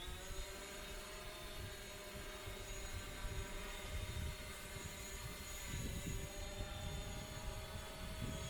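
A Hubsan Zino drone hovering after takeoff over a reservoir, a continuous whining buzz of rotors heard from a moderate distance over outdoor wind rumble, steady throughout, no voices.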